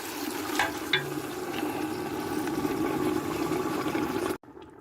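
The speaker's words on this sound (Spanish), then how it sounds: "Agregamos el vino." Red wine poured into a pan of oxtail pieces and their juices for a Córdoba-style stew, a steady liquid pouring and bubbling hiss running continuously for about four seconds before cutting off abruptly.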